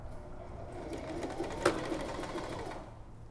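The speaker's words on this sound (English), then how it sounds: "we just sewed the sides of our skirt together with right sides together" A sewing machine stitches the side seams of an elastic waist skirt, a continuous fast mechanical whir with fine rapid ticking and a brief louder clack midway, heard close and alone.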